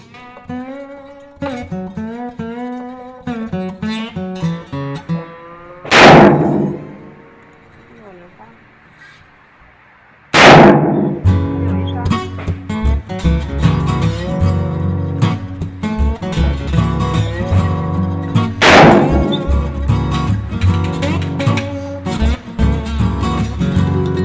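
Three loud, sharp rifle shots ring out a few seconds apart at a shooting range over steady music with a voice singing, each blast sudden and booming.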